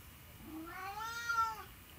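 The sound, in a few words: cat meowing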